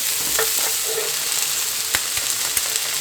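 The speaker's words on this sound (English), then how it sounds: "This is my garlic. We're just going to saute this up" Garlic sautés in a hot pan for lasagna, giving a steady close sizzle and hiss with a few light scrapes and taps of a utensil.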